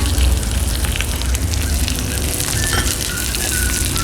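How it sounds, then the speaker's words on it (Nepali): Onions frying in a pan of spiced oil for a local chicken curry, a loud, continuous crackling sizzle that stays steady throughout, close to the pan with no voice over it. "अब यो प्याज फ्राई होस्, हल्का ब्राउन हुनुपर्छ यो।"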